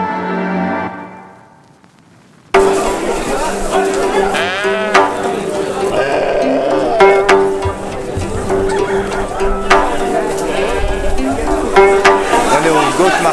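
Goats bleating amid a bustling crowd at the Friday morning goat market auction in Nizwa, Oman, with calls rising repeatedly over steady chatter and background commotion, starting after a brief quieter lead-in.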